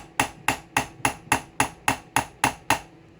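Ten sharp, evenly spaced metal-on-metal hammer strikes on a punch, driving a divot into a stripped screw during a Honda CB/CG250 motorcycle teardown; close, crisp and steady at about three blows per second, with no talk.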